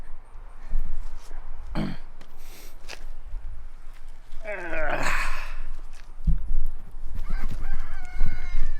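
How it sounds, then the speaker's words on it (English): Chickens and a rooster squawk and cluck in short, agitated bursts as they are chased outdoors, with a person's heavy breathing and brief talk in between. "You chasing that rooster."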